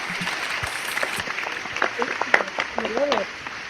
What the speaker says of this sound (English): let's give a warm GoPro Radio applause for and welcome to Miss Sheree Renee